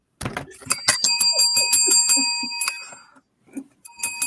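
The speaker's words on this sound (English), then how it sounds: "More bells." A series of bright, ringing bell dings, struck repeatedly in quick bursts with a brief pause near the end before a few more rings.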